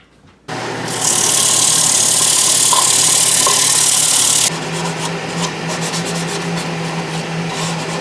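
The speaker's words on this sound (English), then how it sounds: "We're going to get some sandpaper out here and we're going to start sanding this." Sandpaper rasps steadily against a cedar bowl, loud and close: a short burst, then sustained broadband scratching that shifts to a slightly softer, flickering rub for the last few seconds, no voices.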